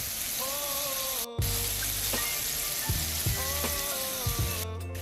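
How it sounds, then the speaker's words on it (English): Shrimp deep frying in hot oil for sweet and sour shrimp, a steady close sizzle with bubbling crackle running throughout and a few soft knocks. "the first batch of our shrimp is now completely fried"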